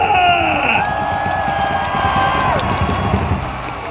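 A baseball stadium crowd at a Landers game claps and cheers in a dense, steady roar, with whistles and shouts rising above it for about four seconds before fading slightly.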